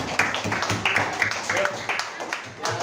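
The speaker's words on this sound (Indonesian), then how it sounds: "Jadi tepuk tangan." A school class claps hands in quick, rhythmic bursts of light applause close by, with some voices mixed in.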